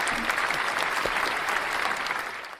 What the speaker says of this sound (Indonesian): Boleh tepuk tangan dulu mungkin teman-teman buat Bapak.